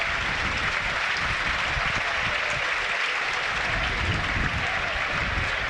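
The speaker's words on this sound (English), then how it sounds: "Subs get up, applauded by the home crowd." Home crowd at a Norwich v Burnley football match applauding substitutes as they get up to warm up; broad, steady stadium applause that carries on evenly throughout, distant and diffuse, with no talk on top.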